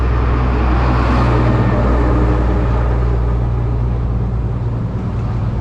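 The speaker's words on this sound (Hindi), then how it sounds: "भाई ट्रक वाले हैं ना, इतना साउंड करते हैं, इतना साउंड करते हैं।" Heavy road traffic with trucks rumbling past in Laos, a steady loud low engine drone and broadband roar filling the whole stretch without pause.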